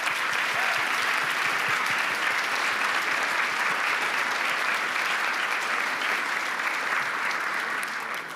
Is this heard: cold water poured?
no